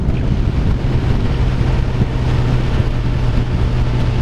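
Steady, rushing wind roar buffeting the microphone with a low engine drone underneath, continuous and loud throughout, no talking.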